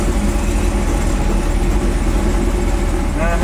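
A cammed Chevy C10 truck engine idles loud and close, a dense low rumble with the uneven lope of an aggressive camshaft, a voice speaking briefly near the end.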